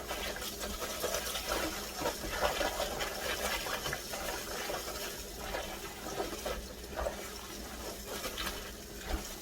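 Wild thistle greens are rinsed quickly in running water with detergent by gloved hands. A steady close rush of water with soft sloshing and rubbing throughout, at a moderate level and with no talking.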